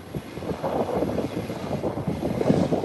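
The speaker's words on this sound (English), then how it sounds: "CRJ Bombardier that came in from Havana, Cuba, is pushing back for departure" An InterCaribbean Bombardier CRJ jet, arrived from Havana, Cuba, pushes back for departure, its engines a low, moderately distant rumble that swells and wavers slightly.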